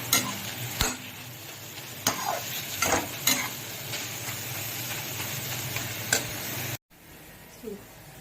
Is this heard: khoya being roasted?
yes